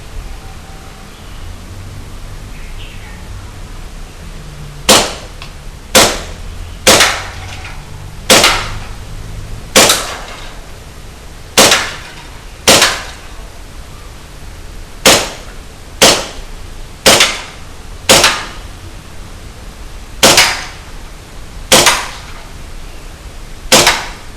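An Army R28 Kimber gas airsoft pistol fires single shots outdoors, giving about eighteen sharp, loud cracks spaced roughly a second apart in irregular groups over steady background hiss.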